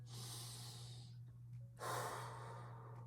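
A deep breath drawn in and let out slowly, close and alone over a steady low hum, with a short pause between the inhale and the exhale.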